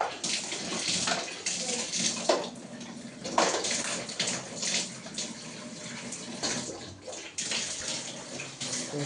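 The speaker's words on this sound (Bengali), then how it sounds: "কল খুলে দেবো, বা জল এসে গেছে, একটু জল বসিয়ে দিয়ে করে স্নানও করে নে" Tap water gushing steadily into a container to fill a bath, a continuous rushing, splashing flow heard close up throughout with no talk.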